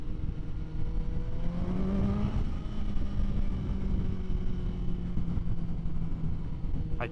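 2022 Triumph Street Triple RS 765 motorcycle engine on a ride, a steady low rumbling drone with a brief rising rev, heard close under constant wind rush.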